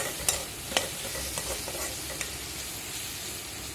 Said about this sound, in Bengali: তাই আমরা অনেকক্ষণ ধরেই কষাচ্ছি